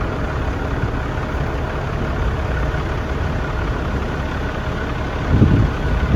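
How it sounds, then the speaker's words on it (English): A fire engine serving as the pumper at a training exercise idles with a steady, low mechanical rumble that stays even throughout, rising briefly near the end. "So this engine, this is serving as the pumper, and the other tankers came in and pumped water into this tanker."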